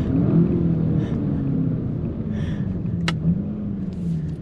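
A 2021 VW Jetta GLI accelerates hard from a standstill with wheels spinning into third gear, a rising and falling engine drone heard from inside the cabin, steady and moderately loud.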